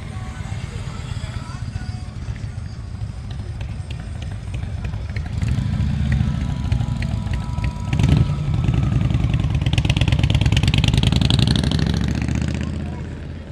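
Harley-Davidson motorcycles idling and revving at the Sturgis rally plaza, a loud, steady chorus of nearby engines swelling louder midway with throttle blips, crowd voices mixed underneath.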